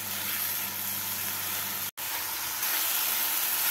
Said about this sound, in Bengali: টমেটো বাটাটাকে এই মশলার সাথে ভেজে নেব।